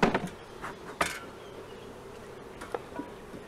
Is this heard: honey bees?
yes